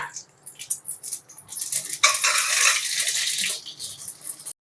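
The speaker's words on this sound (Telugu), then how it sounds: "ఆయిల్ వేడైనాక తిరగమాత గింజలు వేసుకోవాలి." Tempering seeds dropped into hot oil in a kadai while making a flat bean fry, a quiet rattle of scattering seeds that swells into a bright, steady crackling sizzle before cutting off abruptly.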